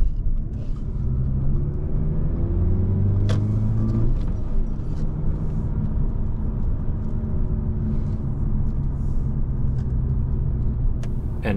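A 13-year-old Audi A5 convertible drives along the autobahn, its engine giving a steady, full-bodied drone over continuous road rumble and wind, with rising harmonic tones as it accelerates, and no talk.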